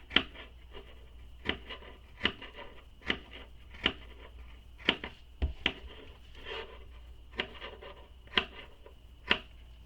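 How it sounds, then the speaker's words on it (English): Scissors snip notches into the curved seam of a fabric bag flap, producing about a dozen sharp, close cuts at an irregular pace over quiet background rustle. "we're going to notch the seam up here where the curve is in the flap"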